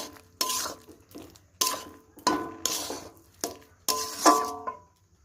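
A spoon scrapes and knocks against a pan while semolina dough is stirred over low heat, in a rhythm of separate strokes each ending in a metallic clink, with short quiet gaps between them.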